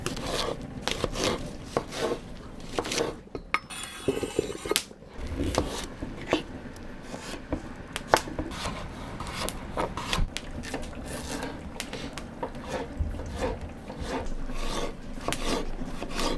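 Knife slicing potatoes in half and roughly cutting shallots into chunks, a series of close, irregular rasping cuts and board taps with short pauses, no voices over it.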